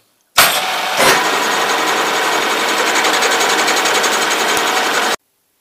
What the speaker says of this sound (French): Je vais usiner le bossage ici, comme la pièce symétrique.